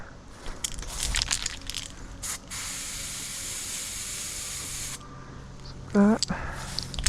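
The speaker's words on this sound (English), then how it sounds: "And it says to spray this upside down." Bed liner sprays from an aerosol can held upside down onto a Lone Wolf climbing stick, giving short hissing bursts followed by one long steady spray of a few seconds, with rattling handling noises and a brief squeak.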